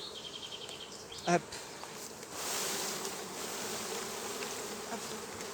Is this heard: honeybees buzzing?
yes